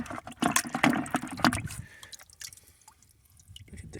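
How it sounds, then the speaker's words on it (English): Petrified wood pieces are dunked and washed in water, giving a few close splashy drips and sloshes in the first two seconds, then quieter trickling and faint wet movement. "Let's see what they look like after I dunk them in the water."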